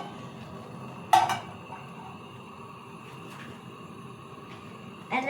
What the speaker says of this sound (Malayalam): ഇനി ഞാൻ ഇതിനകത്ത് പാത്രം വെച്ചിട്ട് വെള്ളം ഒഴിക്കാൻ പോവാം